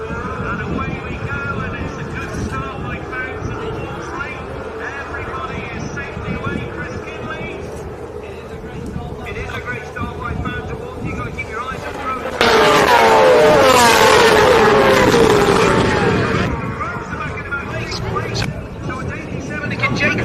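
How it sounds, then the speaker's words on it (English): Racing sidecar engines at the start of a Southern 100 race on the Isle of Man drone steadily under a commentator's talk, then surge into a loud, rising rev for several seconds before easing back. "you can hear those revs going up"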